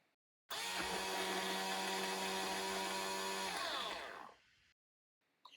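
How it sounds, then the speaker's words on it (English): Ultra Infuser inner blade spinning in milk, a loud steady motor whir with strong harmonic hum lasting about three seconds before winding down and stopping, heard alone. "the inner blade will rotate and sound like this"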